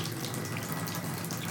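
Continuous broadband rush of water pouring from a tap into a bathtub during a bathroom renovation, steady and close with no pauses or voices.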